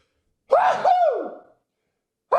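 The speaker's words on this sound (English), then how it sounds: "Nobody can know how cute my sneeze is" A single close, sharp sneeze bursts out with a quick inhale-and-release shape, followed by silence and the start of another breathy sound at the very end.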